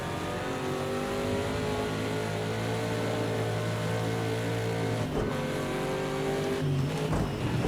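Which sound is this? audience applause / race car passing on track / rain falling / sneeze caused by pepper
race car passing on track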